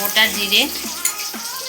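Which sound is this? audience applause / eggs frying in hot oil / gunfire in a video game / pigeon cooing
eggs frying in hot oil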